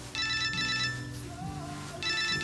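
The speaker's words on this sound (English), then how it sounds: "Hello, Chesney's phone" A telephone rings indoors in a domestic scene, two bursts of electronic ringtone trilling with a short gap between them, heard alone without talk.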